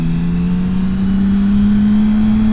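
A Ferrari's engine hums steadily on a Tokyo expressway, its pitch climbing slowly as it accelerates, loud and close over constant road and wind rush.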